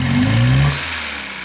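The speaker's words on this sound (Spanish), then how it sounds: "Acelera y suelta." Dodge Forza engine with a cylinder misfire, revved briefly and released, a steady mid-pitched drone that falls back toward idle, close and fairly loud with no talk.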